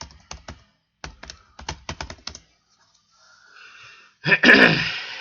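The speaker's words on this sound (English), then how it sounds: "Let's type in." Keys on a computer keyboard are tapped in quick clustered bursts, close and clear, followed by a brief pause and then a loud breathy sneeze-like burst at the end.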